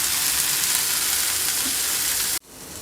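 Paneer tikka pieces fry in oil on a pan with a steady, loud, dense sizzle that cuts off abruptly near the end, leaving quieter residual crackle.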